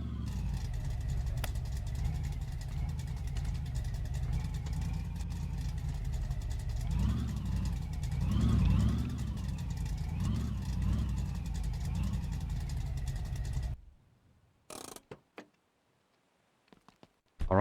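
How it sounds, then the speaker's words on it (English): BMW E36 drift car engine running as the car is moved aside in a tight garage, a steady low idle with a few brief revs, close and fairly loud, then cutting off into near silence with scattered clicks. "let's just move this car out of the way a bit"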